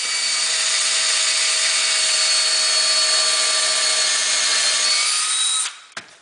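A power drill drives screws through a wall cabinet during installation, a loud, steady high whine that runs for several seconds and then stops with a short clunk.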